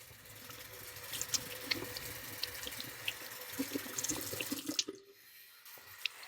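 Running tap water rinsing Dial soap out of a facial cleansing pad at a sink, a steady splashing flow with scattered drips and small squelches, fairly close, then cutting off near the end.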